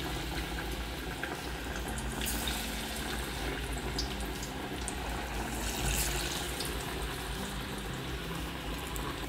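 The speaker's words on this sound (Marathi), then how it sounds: "आता तेल पण गरम झालंय, तळायला घेऊया।" Chana dal vadas frying in hot oil, a dense, steady bubbling hiss that fills the whole stretch without a break, loud and close.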